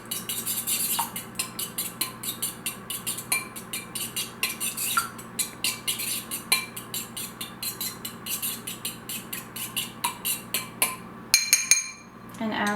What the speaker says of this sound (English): I'm just going to whisk those together